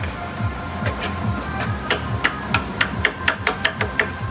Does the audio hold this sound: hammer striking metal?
yes